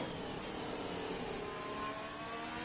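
An Alfa Romeo Formula race car engine in a racing video game holds a steady, high-pitched whine at speed, droning continuously and close without breaks.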